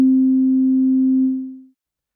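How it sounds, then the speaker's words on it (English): A single pure sine tone from Ableton's Analog synth sounds at a low-mid pitch, steady and loud, then fades away smoothly after about a second and a half. "let's start with a sine wave, also known as a pure tone"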